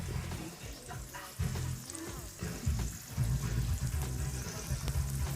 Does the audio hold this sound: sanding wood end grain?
no